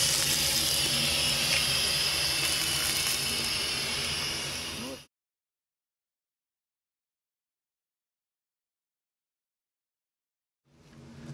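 A wax melter vents steam in a loud, steady broadband hiss that cuts off abruptly and then returns faintly after a long silence.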